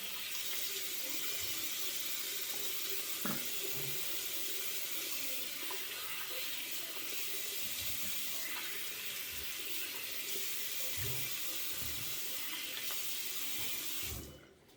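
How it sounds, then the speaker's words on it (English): A bathroom tap runs steadily as water wets the face during a shave, a continuous close splashing flow with small bumps of hands in the stream, stopping abruptly at the end; no voices. "And let's wet the face, hot water then cold."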